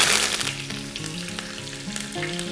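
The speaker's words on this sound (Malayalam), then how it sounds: "അതിനുശേഷം നമുക്കൊരു 3-4 ഇതള് കറിവേപ്പില നമുക്ക് ഇതിലേക്ക് ഇടാം." Loud, crackling sizzle of curry leaves hitting hot oil, bursting at first and settling into a steady frying hiss.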